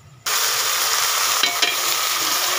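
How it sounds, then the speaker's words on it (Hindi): Onions frying in hot oil for rice, stirred in the pan: a bright, steady sizzle starts abruptly and holds at close range, with a few soft scraping stirs partway through and no talking. "प्याज चावलों के लिए ज़्यादा ब्राउन करूँगी"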